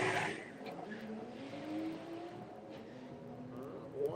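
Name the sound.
Corsa drag racing car making a run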